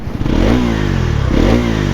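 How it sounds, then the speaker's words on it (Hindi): A 2026 Bajaj Pulsar NS400Z engine revs loudly up close. Its exhaust note gives two rising-and-falling throttle blips over a deep, steady idle rumble. "एग्जॉस्ट नोट सुनो"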